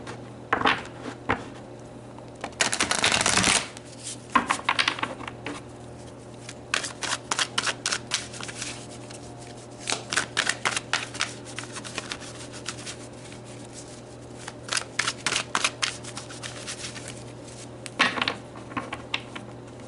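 Tarot cards being shuffled in bursts of rapid riffling and soft rubbing, close and fairly quiet, with pauses between bursts and a steady low hum underneath; no one speaks.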